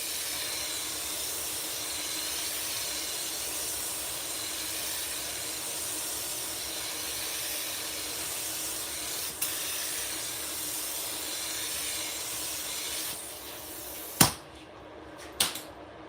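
A spray gun lays a medium coat of candy paint over silver metalflake, a soft, even hiss running steadily at low volume, broken near the end by a couple of sharp clicks and brief pauses.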